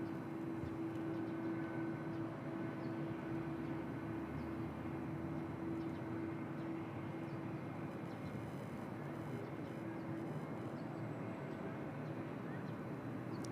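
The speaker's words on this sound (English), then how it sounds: "How's the sound there of the Korean 777?" Jet noise from a Korean Air Boeing 777 at Bangkok, a steady broadband roar with a constant engine hum running unbroken at moderate level throughout, heard from a distance.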